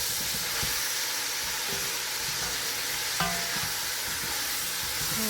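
Seasoned shrimp sizzle steadily in a hot pan, a dense crackling hiss with occasional light clinks of a utensil stirring, close and continuous, with no voices.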